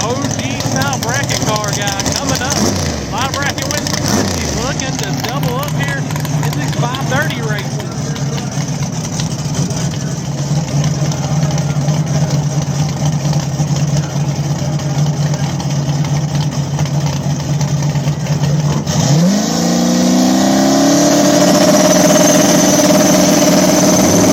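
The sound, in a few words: turbo LS small-tire outlaw drag race car engine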